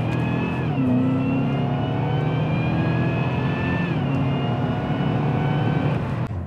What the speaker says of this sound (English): So here's what it's like in sports mode under acceleration.